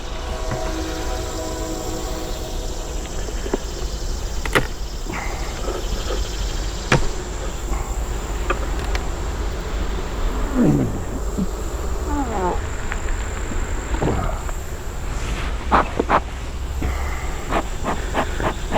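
Honeybees buzz steadily around an open hive during an inspection, a dense continuous drone close by with scattered louder passes of individual bees and occasional handling knocks.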